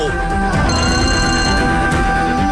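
A telephone bell rings loudly and continuously, a trilling electronic ring filling the whole moment with no voices.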